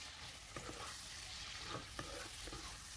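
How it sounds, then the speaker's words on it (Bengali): Chopped onions, crushed chili and garlic are stirred with loitta dried fish in a pan, a faint sizzle broken by a few soft spoon scrapes and knocks. "একসাথে নেড়ে মিশিয়ে নিচ্ছি।"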